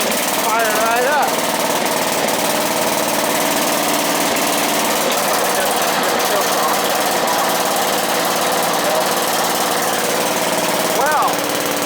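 A Bolens GroundsKeeper garden tractor engine runs steadily just after a cold start, a loud continuous mechanical drone with rough knocking texture holding constant throughout, with people talking briefly over it.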